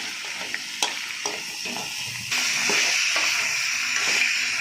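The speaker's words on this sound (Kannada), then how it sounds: "ಎಣ್ಣೆ ಹಾಕಿ ಚೆನ್ನಾಗಿ ಹುರಿಯೋಣ" Ingredients fry in a few spoons of oil for a green chops recipe, a steady sizzle that grows louder partway through, with occasional stirring clinks against the pan.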